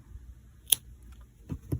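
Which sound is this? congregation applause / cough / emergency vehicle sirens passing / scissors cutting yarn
scissors cutting yarn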